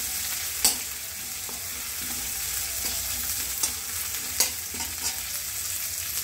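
Onions fry in a pan for chicken curry, a steady sizzle under sharp scraping clicks of a spoon stirring against the pan at irregular intervals, close and without talk.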